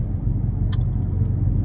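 Loud Dodge Charger Scat Pack engine rumbling steadily from close by, a dense low drone throughout with one brief higher-pitched squeak partway through.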